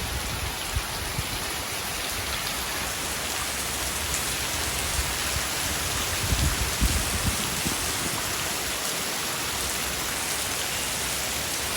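Heavy rain pours down in Jaffna, a dense, continuous hiss of drops striking surfaces, loud and steady throughout with occasional heavier splatters and no voices.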